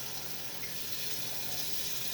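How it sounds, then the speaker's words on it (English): Water runs into a pan used for cooking peanut butter fudge, a quiet, even gush that continues without a break. "Make sure you put some water in the pan, because that will be hard to get out."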